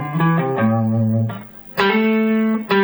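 Electric guitar plays a Texas blues resolution lick in A: a quick run of bent and sliding single notes, a brief pause, then a bright ringing chord stab, close and unaccompanied.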